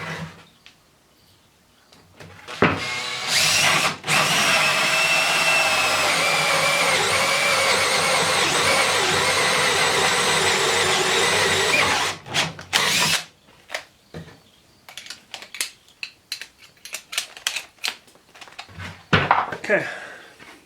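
A power drill with hole-cutting bits bores into wood in one long steady run of about ten seconds, followed by scattered clunks and knocks of handling the board.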